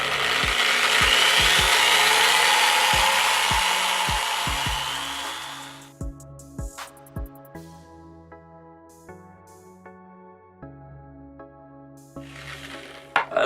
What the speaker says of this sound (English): with the drill going fast like this, it just makes it even.